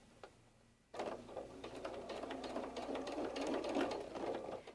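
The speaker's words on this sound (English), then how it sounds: "I'm going to sew a stitch all the way around the bottom of the brim" A sewing machine stitches around the bottom of a fabric hat brim, its rapid mechanical chatter starting abruptly after a quiet moment and running steadily and close for several seconds.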